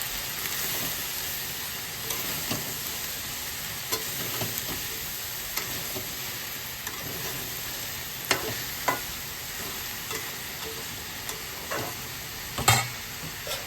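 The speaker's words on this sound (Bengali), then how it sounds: "দিয়ে ভালো করে একটু নাড়িয়ে নিই" Soyabean chilli with red chilli powder frying in a pan, a continuous bright sizzle punctuated by irregular clicks and scrapes of a spoon stirring, one louder knock near the end.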